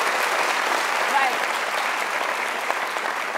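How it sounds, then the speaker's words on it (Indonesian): Audience applause during a televised panel interview of a police candidate for Indonesia's anti-corruption commission, a steady dense wash of clapping across the whole stretch with a faint voice briefly audible underneath. "Oke, kita kasih tepuk tangan."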